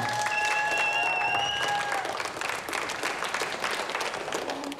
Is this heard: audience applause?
yes